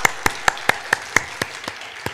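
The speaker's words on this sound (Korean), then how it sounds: "우리 찬양팀을 위해서 격려의 박수 한번 할까요?" A church congregation claps for the worship team in a short burst of evenly spaced, crisp claps that thin out toward the end.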